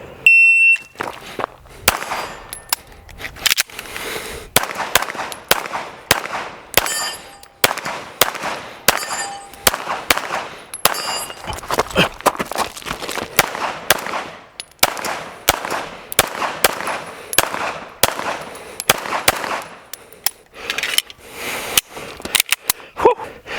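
Rapid pistol gunshots at an outdoor practice range with steel targets, sharp, loud cracks in quick strings with brief pauses between bursts, some ringing metallic hits, no talk.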